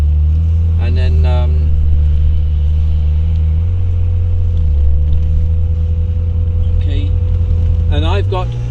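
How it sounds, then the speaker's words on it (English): Ferrari engine said to sound closest to the old Formula 1 cars, a loud steady low drone with harmonic tones running throughout, while a person talks over it at the start and near the end. "It's supposed to be the closest sounding to the old Formula 1 cars."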